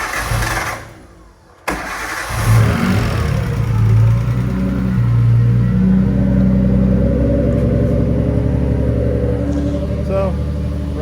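A Nissan RB20DET engine cranks briefly, falls quiet, then fires up and settles into a steady, fairly high idle, close and loud, with a faint whine riding over it near the end.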